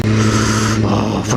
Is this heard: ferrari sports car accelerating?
yes